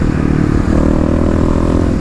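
A Kawasaki KLX351 dirt bike engine with fuel injection revs briefly as a loud, throaty, rattling roar, heard close up for about two seconds.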